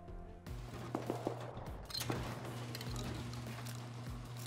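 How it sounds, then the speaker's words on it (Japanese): Distant AI gunfire in a survival video game, scattered shots and short bursts over a steady low engine-like drone, with no talk. "違う方から AI の銃声か"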